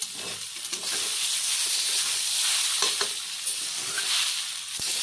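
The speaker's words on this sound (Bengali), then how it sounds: "মশলাটা এবং ম্যাগিটা ভালোভাবে মিশিয়ে নেওয়া হচ্ছে" Maggi noodles with vegetables and masala being stirred in a kadai, a steady close sizzle and hiss of frying with occasional scraping knocks of the utensil against the pan.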